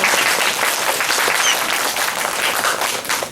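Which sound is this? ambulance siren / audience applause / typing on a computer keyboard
audience applause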